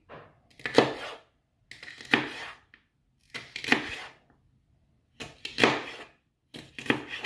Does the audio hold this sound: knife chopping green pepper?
yes